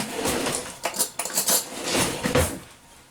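A metal spoon stirs shredded cheese in a pan with bacon nearby, giving repeated close clinks and scrapes against the metal in an irregular rhythm, loud and with no talk.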